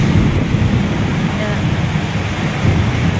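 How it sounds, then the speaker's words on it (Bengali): Strong wind roars steadily across a veranda during a rainstorm, a loud, continuous gusty rush with rain noise mixed in. "সব পুরো এমন হাওয়া দিচ্ছে, সব হাওয়াতে সব বেরিয়ে পড়ে যাচ্ছে"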